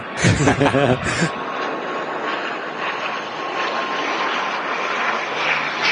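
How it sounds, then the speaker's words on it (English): An Aer Lingus ATR turboprop arriving from Dublin at Manchester Airport drones steadily with a propeller hum, and a brief voice is heard at the start before the engine sound continues alone. "Aer Lingus ATR in from Dublin."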